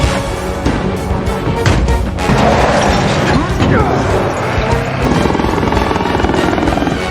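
Helicopter in an action film scene, a steady loud rotor roar mixed with crashes and other action noise and music throughout.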